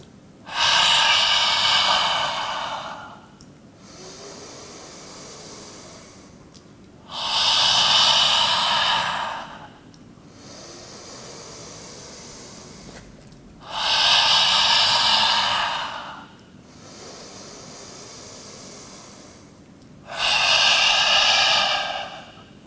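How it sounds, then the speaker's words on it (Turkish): Deep breathing during a yoga breathing exercise: four long, loud, forceful exhalations through the nose at regular intervals of about six seconds, with quieter inhalations between them, close to the microphone and with no talking. "Tekrar derin bir nefes al."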